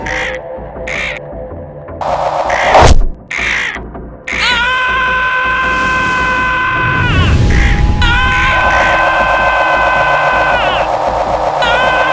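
A vulture in a horror story lets out loud, harsh screeching caws, a few short cries at first, then sustained rasping shrieks over a dense, rumbling backdrop.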